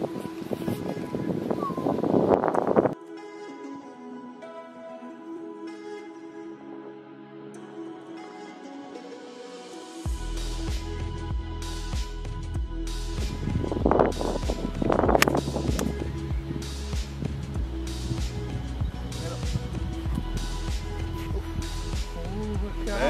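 Wind gusts across a golf course and buffets the microphone in a low, rough rumble. It is loud at first, drops to a quieter lull, then returns strongly and keeps blowing.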